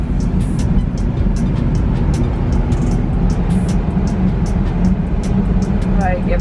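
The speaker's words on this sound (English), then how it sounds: "there's a lot of traffic" Steady road traffic rumbles at close range, with cars and heavier vehicles passing continuously and a constant low drone, while brief talk and scattered clicks sit over it.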